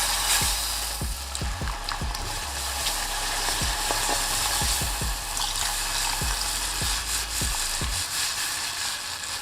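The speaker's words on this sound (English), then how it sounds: "Give this a mix, and you want to cook the rawness of this roux." A roux of salted butter and flour cooks in a pan, giving a steady soft sizzle broken by frequent sharp clicks and scrapes as it is stirred, close up and with no talking.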